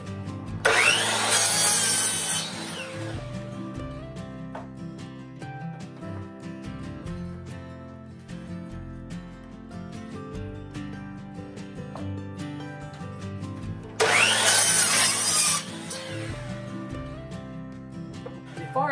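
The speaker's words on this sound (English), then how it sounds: "I need to finish sawing up these slabs." A saw cuts through wood slabs in two noisy rasping bursts, in a garage, separated by a long stretch of quieter background sound.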